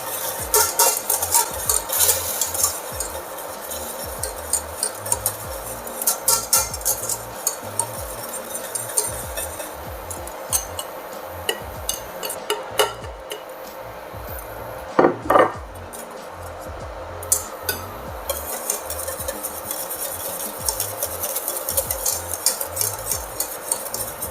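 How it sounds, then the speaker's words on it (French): Butter is whisked into a beurre blanc sauce in a pan over reduced heat, giving a continuous rhythmic metal scraping with frequent clinks and a soft sizzle underneath, close and fairly loud. "Là, on va commencer à verser notre beurre en parcelles. On réduit le feu. Là, on monte le beurre."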